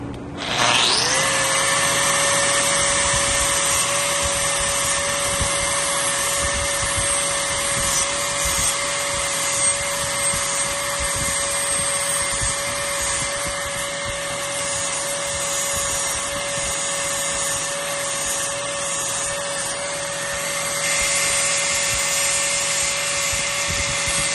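An angle grinder takes material off stainless steel jaw parts, starting with a sharp spin-up into a loud, steady high-pitched whine with a constant tone that holds for the whole stretch, close up and with no talking.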